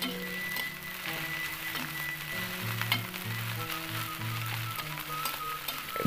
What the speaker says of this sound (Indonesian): langsung kita masukkan juga 1 mangkuk nasi. Ini nasi yang waktu kemarin ya, waktu berbuka puasa. Dan ini langsung kita aduk-aduk ya.